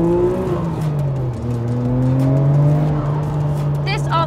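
A 1999 Nissan Skyline R34 GT-R V-Spec engine revs and pulls steadily while driving, its tone rising and falling in loud, continuous sweeps with no talk over it.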